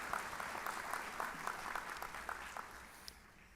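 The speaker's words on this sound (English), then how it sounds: "Let's give Mr. McAllister a round of applause." An audience at a nurse pinning ceremony applauds for a foundation board member, a soft, fairly distant round of clapping with individual claps standing out.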